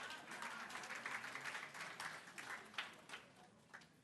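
An audience at an awards ceremony gives a faint, distant round of applause, a soft sustained patter of clapping heard from afar.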